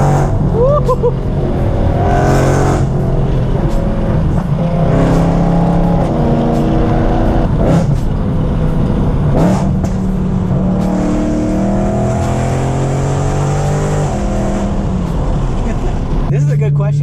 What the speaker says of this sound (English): it has to be the exhaust. I feel like it's one of the best sounding cars out there